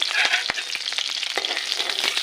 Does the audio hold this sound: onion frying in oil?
yes